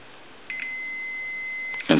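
A multimeter gives a steady continuity beep while probing a shorted diode on a telephone circuit board, a single sustained tone lasting over a second, with faint clicks of the probes at the start and a louder bump at the end.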